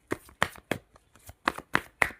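Tarot cards shuffled by hand in a string of about seven quick, crisp riffling bursts, close and fairly quiet with no talk.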